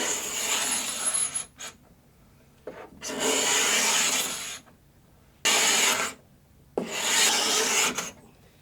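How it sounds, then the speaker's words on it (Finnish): Varnish is scraped off a wooden table in three or four long, raspy strokes, each lasting around a second or more, close and fairly loud, separated by short pauses of quiet. "Päätin, että kaavin tämän mahdollisimman varovaisesti nähdäkseni, miltä pinta näyttää lakan alla"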